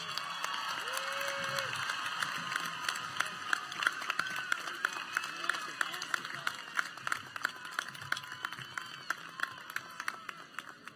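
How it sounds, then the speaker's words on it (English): Steady applause from a commencement audience of graduates and guests, many hands clapping continuously at moderate volume with a few scattered sharper claps, and no voices over it. "Let's give Representative Beasley another round of applause."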